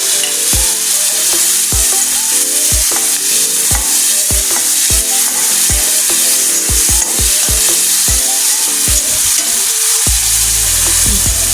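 Onions and tomatoes frying loudly in a pan, with a constant close sizzle broken by a rapid series of sharp spatula scrapes and taps against the metal.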